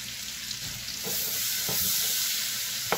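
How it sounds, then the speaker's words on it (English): Garlic cloves and bay leaves sizzle in a pot for chowder while a spoon stirs through them, with a steady frying hiss and a few soft scraping strokes up close. "you're just going to stir that up and let that cook down for about 6 minutes"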